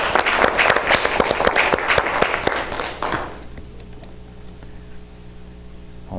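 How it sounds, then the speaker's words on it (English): Audience applause at a school board meeting, a dense burst of many hands clapping for about three seconds before it quickly dies away into a quiet room with faint hum. "We'll give you another round of applause."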